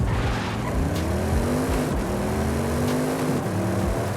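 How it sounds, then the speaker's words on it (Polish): An Audi RS6-like car engine roars under launch control in Forza Horizon 5, revving loud and close with rising and falling tones, gear shifts and sharp tire squeal throughout. "Ej, to naprawdę brzmi jak Audi RS6, tak?"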